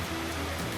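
Hail falling suddenly in Majalengka, West Java, makes a dense, steady patter on surfaces, continuous and fairly close, with no voices.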